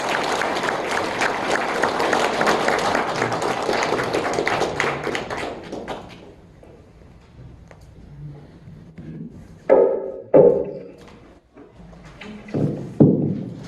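An audience at a political lecture applauds with dense, steady clapping for several seconds before it thins and fades. A few scattered louder claps and bumps follow in a quieter room.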